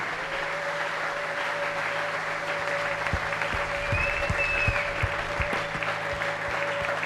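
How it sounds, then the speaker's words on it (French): A church congregation claps loudly and continuously, a dense wash of applause that lasts throughout, with scattered shouts and a faint sustained tone underneath. "Applaudis très fort."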